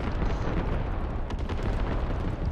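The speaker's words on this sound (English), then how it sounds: "It's only creeping barrage" Squad creeping artillery barrage rolls on as a dense, continuous rumble of overlapping explosions, loud and unbroken for the whole stretch.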